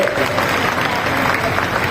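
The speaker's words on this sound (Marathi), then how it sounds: "शिंदे साहेबांसाठी एकदा जोरदार टाळ्या आपण वाजवल्या पाहिजे" Applause from a crowd at a Marathi political rally, a dense steady clatter of many hands lasting the whole two seconds, loud and close with no pause.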